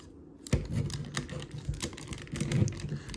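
A Transformers Studio Series '86 Scourge plastic toy being folded and converted, giving close, sharp clicks and snaps of joints and panels in quick irregular bursts, no talking.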